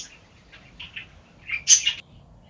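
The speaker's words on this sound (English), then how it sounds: "Under the arch you see a little blackbird." A small blackbird in a spring garden gives a few short, bright chirps in quick succession, clear and fairly close, with quiet surroundings and no talking.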